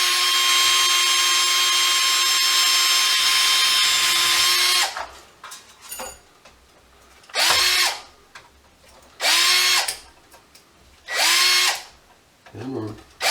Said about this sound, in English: The fastest way is just to drill these rivets out.